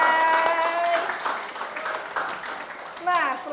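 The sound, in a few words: audience applause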